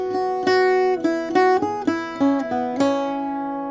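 An Irish bouzouki plays the second line of the A section of the jig Calliope House, a run of plucked, ringing notes in a lilting triple rhythm, close and clear with no talking.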